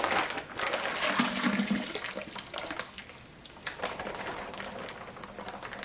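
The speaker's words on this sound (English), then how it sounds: "jug of water here, so that I can swish it around in the bag and basically get out all of the juicy goodness" Water sloshes and swishes around inside the plastic bag from a wine kit, a continuous close, gurgling wash that fades slightly toward the end, with no talking.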